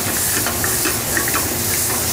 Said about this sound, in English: We're cooking the shrimp in the shell.